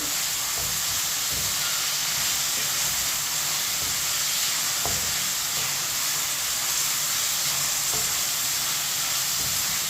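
Chicken pieces fry in a pan for macaroni, giving a steady, even sizzle with a bright hiss that carries throughout, close and continuous, with occasional soft stirring clicks and no voices.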